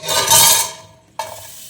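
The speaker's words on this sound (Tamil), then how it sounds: "வெங்காயம் போட்டுக்கிறேன்" Onions drop into a hot pan for mutton dum biryani with a loud burst of sizzling that fades, then a sharp clatter and renewed frying hiss, close and briefly.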